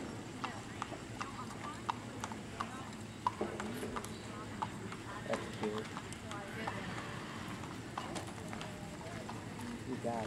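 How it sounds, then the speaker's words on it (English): A horse's hooves clip-clop at a steady jog across the ground at a horse show, amid low background rumble and faint voices, the rhythm continuous throughout. "Jog your horse, please."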